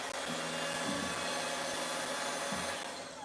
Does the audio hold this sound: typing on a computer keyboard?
no